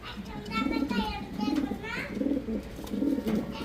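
Blue barless Lahori pigeons coo in repeated soft, low rolling phrases nearby at a pigeon sale, while voices murmur in the background.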